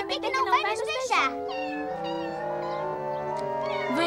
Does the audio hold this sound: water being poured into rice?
no